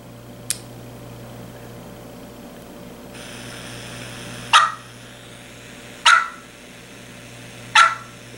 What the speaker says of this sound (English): turkey calls